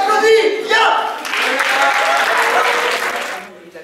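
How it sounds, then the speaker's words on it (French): An audience breaks into applause after a short stretch of talk, with steady clapping and crowd noise for a couple of seconds before it tapers off. "On applaudit!"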